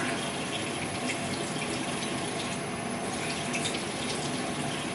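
Running tap water pours steadily into a bathroom sink during a face wash, a constant close hiss and splash with no pauses and no voices.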